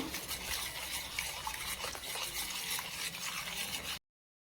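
A spiced lentil and drumstick-leaf dish being mixed by hand or spoon in a pot, producing soft continuous stirring and rubbing sounds at low volume, ending abruptly.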